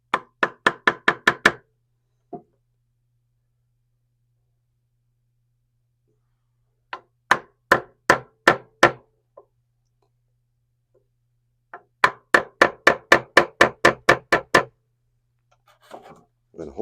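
Hammer taps against the inside of a hole on a wooden chair, knocking to break a glued joint loose: quick bursts of sharp knocks in clusters, with a long quiet gap between groups.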